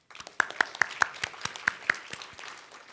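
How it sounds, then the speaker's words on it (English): Audience applause at a community service awards ceremony, a scattering of sharp individual claps over a soft crowd bed, thinning out toward the end. "So give yourselves an applause."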